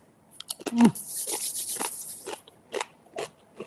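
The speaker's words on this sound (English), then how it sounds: "Pete gave me some crunchy bread as well, which is easier to eat" Close crunching bites into crusty bread, a sharp initial crack followed by a burst of crackly chewing, then a few separate crisp bites spaced apart, with no talking.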